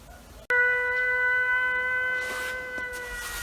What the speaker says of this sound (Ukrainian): знову сирени. Повітряна тривога.